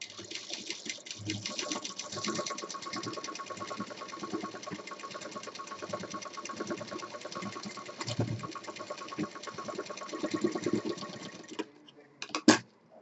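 Close sewing machine stitching a handbag seam, running steadily and fairly loud for about eleven seconds with a dense rapid needle rhythm, then stopping with a few brief clicks and knocks.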